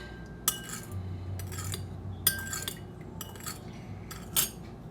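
A spoon stirring dark soy sauce mixture in a bowl, with several light metallic clinks and taps against the sides at an uneven rhythm over a faint background hum.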